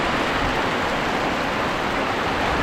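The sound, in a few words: rain pouring on a mosque roof in West Sumatra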